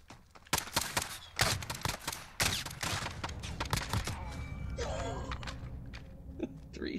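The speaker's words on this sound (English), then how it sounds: "Three shots." Gunfire from an underbarrel shotgun and an M19 pistol in Modern Warfare, a rapid series of sharp, loud shots cracking in quick bursts, followed by clattering and rustling game sounds.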